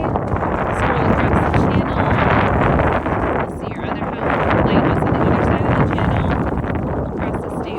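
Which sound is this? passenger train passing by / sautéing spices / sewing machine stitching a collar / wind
wind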